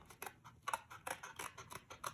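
Scissors snipping through paper for a children's art project, a quick series of short, crisp cuts close by and fairly quiet, with no talking.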